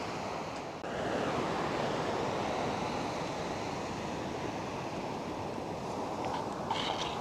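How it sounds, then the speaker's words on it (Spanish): Ocean waves crash and wash continuously onto a Mexican beach, a loud, dense roar of surf with wind buffeting the microphone, steady throughout with no voices. "el mar ya está golpeando más fuerte las olas"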